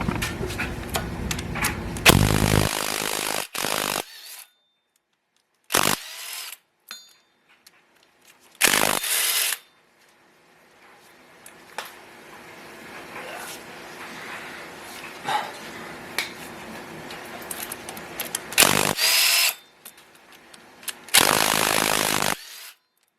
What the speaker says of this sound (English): So just take off all your bolts for the bell housing